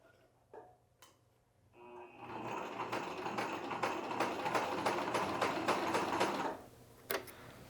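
A sewing machine stitches along the edge of an inside pocket face, a close, steady whirring chatter of rapid needle strokes lasting several seconds, framed by a few soft clicks before and after.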